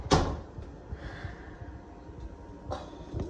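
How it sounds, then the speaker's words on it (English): A closet door in an apartment swings shut with a sharp knock at the start, then softer rustles and a second lighter bump near the end. "close this door,"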